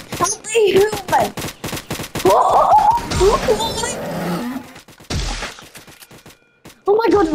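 Bursts of video game gunfire aimed at a shark in Roblox, fired in quick rapid strings between excited, shouting players, loud and close.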